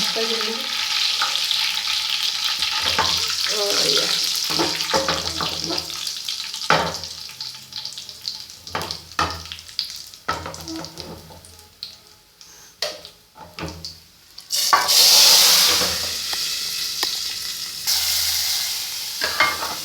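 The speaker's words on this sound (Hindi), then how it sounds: "ये जो सिजलिंग साउंड है ना, यही हो गया।" Oil sizzles and crackles steadily with garlic and curry leaves, broken by scattered clinks and stirring, then a louder burst of hissing near the end.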